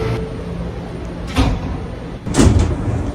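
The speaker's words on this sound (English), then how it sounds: "Stand clear of the closing doors." New York City subway train doors slide and thud shut in two knocks about a second apart, over a steady low rumble of the station and train.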